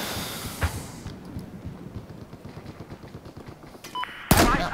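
Gunfire on a Battlefield 4 hardcore server: rapid bursts of automatic shots crackle throughout, with a few louder single cracks and a sudden heavy blast near the end.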